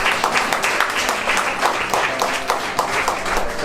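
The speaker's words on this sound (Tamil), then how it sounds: "கர்த்தருக்கு ஒரு பலத்த கைத்தட்டல் கொடுப்போமாக" Church congregation applauding together at a testimony service, a dense, rhythmic burst of clapping held steady for several seconds.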